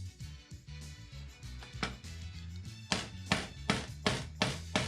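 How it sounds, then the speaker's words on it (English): A rubber mallet gently taps a bike crank into the frame, giving a series of dull, close thuds that start soft and become firmer and more evenly spaced toward the end over a low background hum. "I use a rubber mallet to gently tap the crank into the frame"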